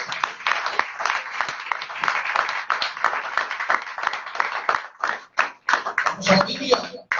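A church congregation claps loudly and steadily through the whole stretch, a dense continuous applause that thins into scattered claps near the end, with a few voices mixed in.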